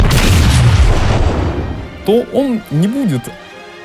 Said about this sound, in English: say a shot that was recorded somewhere on the gunnery range